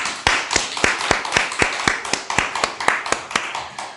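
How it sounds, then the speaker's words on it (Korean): Rhythmic, unison clapping from a church congregation at a prayer-house worship service, roughly two claps per second, steady and close, with no talking over it. "우리 하나님께 영광의 박수 칩시다"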